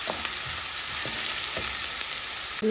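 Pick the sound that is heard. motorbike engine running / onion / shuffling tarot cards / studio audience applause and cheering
onion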